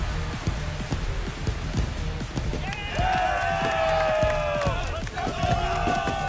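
A home crowd roars after a walk-off home run in the baseball video game MLB The Show 25, a loud, sustained cheer with whistles and shouts that swells midway, heard alongside footsteps running and a commentator talking.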